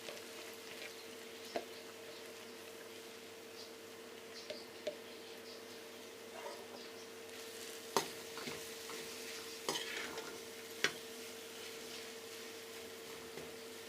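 Potatoes for kachori filling are stirred and fried in a pan, giving a quiet sizzle broken by sporadic scrapes and soft clatters of the spoon.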